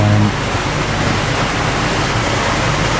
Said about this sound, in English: I just wanted to kind of capture the water wheel that we have behind us for Daniel's Mill